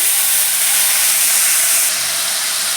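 Water poured onto a hot spice tempering with cumin powder in a pan sends up a loud, steady hissing sizzle that fills the whole moment.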